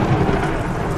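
Heavy rain falls steadily with a deep rumble of thunder mixed in, a loud, dense wash of sound with no voices.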